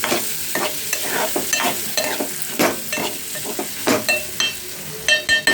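Potatoes and tomatoes cook in a pan, stirred now and then with scraping, clattering strokes over a steady close sizzle; no one speaks.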